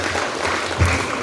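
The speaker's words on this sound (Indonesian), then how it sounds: "tepuk tangan buat mbaknya" Audience applause at a novel discussion event: a short burst of dense clapping from a seated crowd, fairly loud and even, with a brief low thump partway through.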